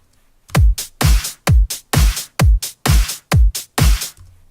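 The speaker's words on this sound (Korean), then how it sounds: "이게 바로 그 여러분들이 사용하게 되는 기본적인 4분의 4박자 하우스 비트가 되겠죠" A basic four-on-the-floor house beat programmed in FL Studio, with eight loud, punchy kick drums and claps thumping at an even tempo, no voices.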